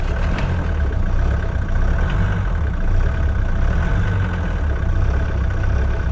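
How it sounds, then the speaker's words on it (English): A Mercedes W115 engine idling with a slightly unstable idle, a steady low mechanical hum, close and constant with no talking. "Idle is still a bit unstable."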